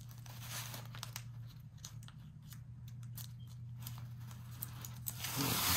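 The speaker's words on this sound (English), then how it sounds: "Let's peel this bad boy off." Backing sheet peeled off a junk journal page, a series of crinkly tearing and crackling bursts close up over a steady low hum, louder toward the end.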